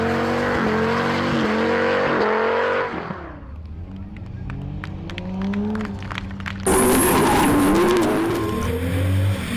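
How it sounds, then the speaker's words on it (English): A high-revving V10 drift car engine screams and shifts up, fades, then roars back loudly with tire squeal, a crowd and announcer audible underneath at a drift championship at Pembrey. "just listen to this V10"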